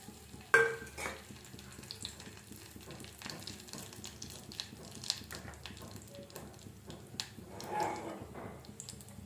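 Cinnamon, cloves and bay leaf crackle faintly in hot ghee as a soft, steady sizzle. A few light clinks of a spoon against the pan sound throughout.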